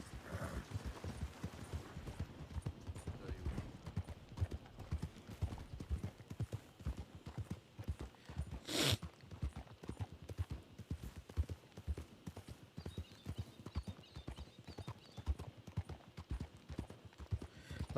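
Steady clip-clop of horse hooves pulling a wagon in the Red Dead game world, a continuous rhythmic trot at moderate distance with faint background mechanisms and one brief sharp burst midway.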